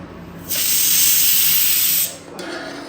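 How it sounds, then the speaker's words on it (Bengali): A pressure cooker cooking chicken stew releases one loud, steady blast of hissing steam lasting about a second and a half, then cuts off abruptly into quieter background noise. "এবার কয়েকটা সিটি হবে পাঁচ ছটা সাতটা তারপরে কিন্তু রেডি হয়ে যাবে"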